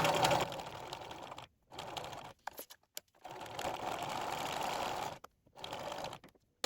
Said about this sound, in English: the edge of the presser foot as a guide, sew the 3 unfolded edges